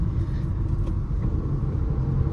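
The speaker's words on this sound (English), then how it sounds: "there is that in gear acceleration noise but you will get used to it" A compact SUV engine pulls steadily uphill in fifth gear, giving a continuous low, rumbling drone with even road noise throughout and no talking.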